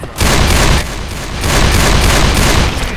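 Rapid, continuous gunfire from the zombie shooter game Left 4 Dead 2, loud and dense bursts filling the whole stretch with a slight dip midway, with no talk over it.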